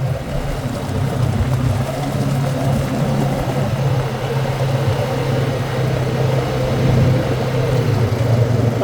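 A Honda Rancher ATV out on a trail ride, its engine a steady, loud, low rumble held throughout at a constant pace, close by and with no voices.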